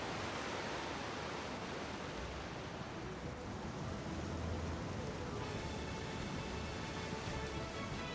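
A waterfall rushes in the Pokémon Violet video game as a constant, dense wash of water noise that stays even throughout and shifts slightly in texture partway through.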